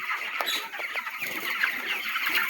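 Dense poultry chatter from about 4,800 chicks on a chicken farm clucking and peeping together, a steady noisy din with a few sharper calls standing out.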